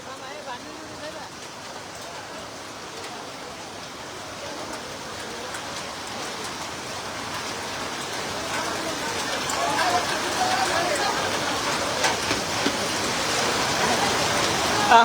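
A hailstorm with rain falls in Dhaka, making a dense, continuous patter and roar across surfaces. The sound builds gradually louder over the stretch and has no clear breaks.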